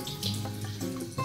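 A running kitchen tap rinses butter off hands while baking, a short, fairly close stretch of steady splashing water with no talk.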